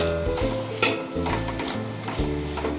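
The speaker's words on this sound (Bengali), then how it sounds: "আমি পেঁয়াজটা ভেজে নিচ্ছি তাই গ্যাসের ফ্লেমটাকে একটু বাড়িয়ে নেব" Onions fry in hot oil in a pan over a raised gas flame for chicken dopyaza, giving a steady close sizzle with several scraping stirs and clinks of a utensil against the pan.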